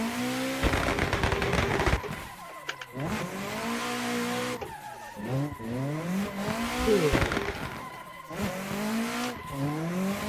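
A drifting car repeatedly revs its engine in rising and falling sweeps, with bursts of tire squeal and skidding, fairly loud and steady with no one talking.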